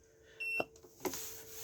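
Electronic beep from a Bailey Autograph 79-4T motorhome control panel as it is switched off, a short tonal chirp around 0.4–0.6 s followed by a brief click, clear and close in a quiet interior.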